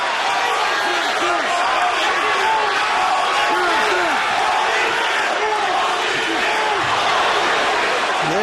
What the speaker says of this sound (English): There's that same Holyfield chant that we heard when he fought Mike Tyson